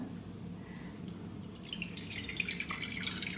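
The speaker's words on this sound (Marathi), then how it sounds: "हलक्या हाताने चोळून घेऊन त्यातलं पाणी आता हे काढून टाकूया" Water drained from soaked sago trickles and drips, starting quiet and growing into a steady pouring splash toward the end, close by.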